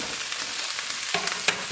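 Pepper and mushrooms frying in a pan give a close, steady sizzle with a couple of brief clicks and scrapes near the end.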